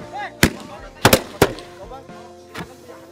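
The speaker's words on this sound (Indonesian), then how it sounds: "akan berpengaruh pada kekuatan dentuman meriam ketika disulut api" Bamboo cannons fired with fire in a West Kalimantan traditional game, several sharp booming blasts, some close together, over background music and murmur.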